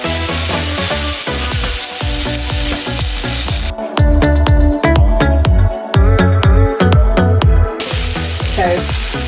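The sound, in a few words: chicken and vegetables sizzling in a stir fry pan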